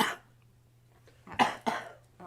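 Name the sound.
coughing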